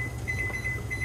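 A kitchen timer gives a few soft, high beeps as it is set while water boils for cooking fish, heard over a low background hum.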